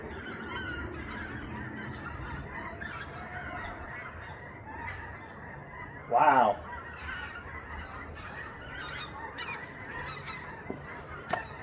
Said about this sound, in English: Geese just keep on going over.